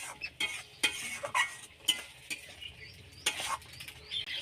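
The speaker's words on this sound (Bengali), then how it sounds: "দিয়ে ভালো করে কষিয়ে নেব" Paneer chilli sauce being stirred and sautéed in a pan, with repeated sharp scrapes and clinks of a spatula against the metal over a soft background sizzle.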